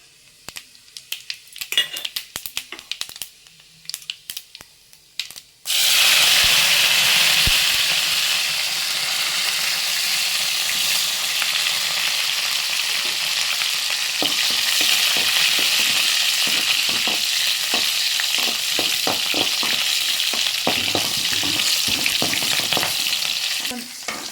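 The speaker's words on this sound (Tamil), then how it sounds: "வெங்காயம் போட்டுக்கலாம். இவங்களை கொஞ்சம் வதக்கி கொடுப்போம்." Sliced onions dropped into hot groundnut oil burst into a loud, continuous sizzle partway through, preceded by a few light clinks and clatters of utensils, then a steady close frying hiss with occasional stirring scrapes.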